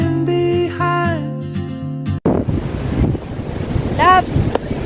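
Sea waves at Bagasbas beach rush and wash in a broad roar with wind buffeting the microphone, following a stretch of music, and they continue to the end.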